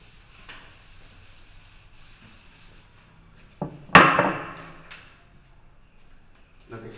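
Chalk-eraser or duster rubbing out writing on a classroom board, one brief loud scrubbing burst with a trailing swish after quiet room noise.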